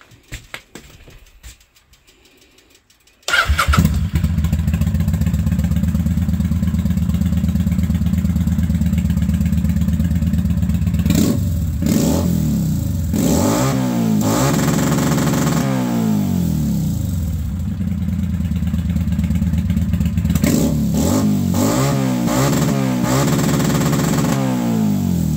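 Kawasaki VN800 Bobber motorcycle, a chopped V-twin, starts up after a few seconds and runs steadily at close range, its engine note rising and falling through several revs, with no talk.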